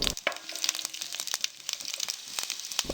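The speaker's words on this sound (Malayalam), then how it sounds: "ചൂടായ ഒരു പാത്രത്തിലേക്ക് 2 ടേബിൾ സ്പൂൺ നെയ്യിട്ട് അതിലേക്ക് 1 ടേബിൾ സ്പൂൺ ജീരകം" Cumin seeds crackling in hot ghee in a heated pan, a dense patter of sharp pops and crinkly sizzling close by, steady throughout without any voices.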